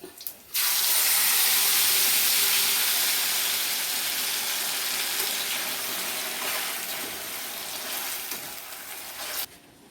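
Bottle gourd bajji frying in hot oil gives a loud, steady sizzle that starts abruptly, holds at a constant hiss for about nine seconds, then cuts off.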